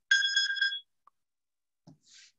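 A phone rings once in a quiet room during a kids' art class, a clear bright electronic trill lasting under a second, followed by a few faint handling sounds.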